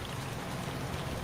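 Rain falls in the Silica video game as a dense, steady hiss of large raindrops, even and unbroken throughout the short stretch.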